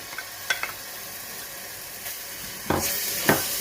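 Ginger garlic paste sizzling in about two tablespoons of hot oil in a pan, a steady soft hiss with a few sharp crackles and louder spits near the end, close and with no talk.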